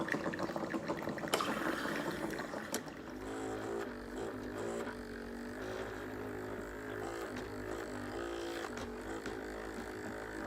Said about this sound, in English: all while our coffee is being made.